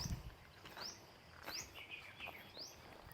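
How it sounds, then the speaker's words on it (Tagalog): Several brief rising bird chirps repeat at intervals over a quiet outdoor background, fairly faint and somewhat distant. "ang ganda ng tunog ng ibon"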